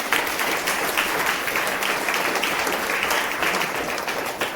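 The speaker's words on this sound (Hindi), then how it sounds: "ताली बजाओ, तारीफ करो।" A church congregation breaks into sustained applause during a Hindi sermon. The clapping is a steady, dense wash with no pauses.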